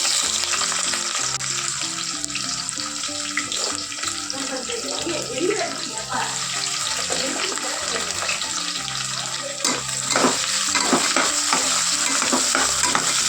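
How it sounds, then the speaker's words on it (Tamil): Spices and onion sauté in hot oil for a chicken gravy, a steady close sizzle and hiss with scraping stir strokes and soft clinks running throughout. "எப்பயுமே நல்லா எண்ணெய் காஞ்சதுக்கப்புறமா வெங்காயம் தக்காளியெல்லாம் போட்டு வதக்குங்க"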